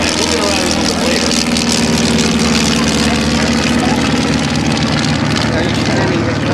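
A small propeller engine, the Franklin engine of an L-6 Interstate light aircraft, drones steadily at close range, a loud, even buzzing hum with no breaks.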